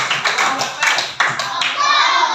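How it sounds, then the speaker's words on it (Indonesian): A classroom of students gives a quick round of hand clapping during a lesson, loud, close, uneven claps in a few surging bursts, with a voice starting to speak near the end. "Kita berikan tepuk tangan dulu."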